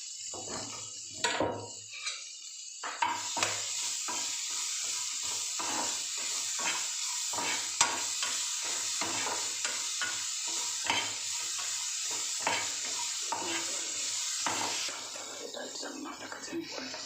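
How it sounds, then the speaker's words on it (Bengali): Onions fry in oil in a pan with a steady broadband sizzle, punctuated by repeated utensil stirs and scrapes; a voice speaks quietly at times under the cooking noise. "একটু জল তেলে দিয়ে ভালো করে ভেজে নিয়েছি"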